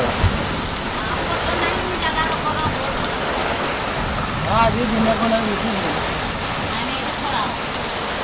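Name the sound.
heavy rain with strong wind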